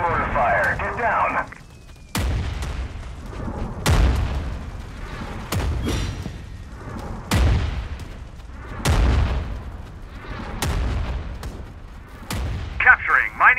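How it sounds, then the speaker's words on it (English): Heavy mortar-style blasts in the CROWZ video game, about seven loud booming impacts landing every second or two, each with a sharp crack and rumbling tail, over a hum of battlefield noise. "Taking enemy mortar fire."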